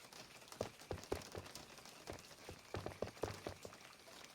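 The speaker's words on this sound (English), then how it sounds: "It's raining." Rain falls outside, a faint, soft patter of scattered drops with irregular clicks and taps and no voices over it.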